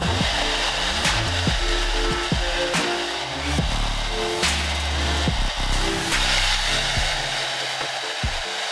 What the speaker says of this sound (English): then we're gonna blow dry the hair